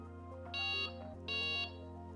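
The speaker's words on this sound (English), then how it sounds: "It also has medium beep speed." A Delkim Txi-D fishing bite alarm gives two loud, steady electronic beeps about a second apart, each lasting roughly a third of a second, over a constant low background hum.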